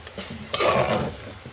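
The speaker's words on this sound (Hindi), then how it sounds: "मसाले को मैं लो से मीडियम फ्लेम पर कुक कर रही हूँ" Masala spices frying in oil over a low-to-medium flame while a spoon stirs them, a close scraping stir over a soft steady sizzle, brief and moderately loud, with no talking.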